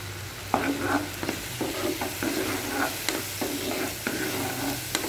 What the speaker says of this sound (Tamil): எல்லாம் கொஞ்சம் வதங்கட்டும்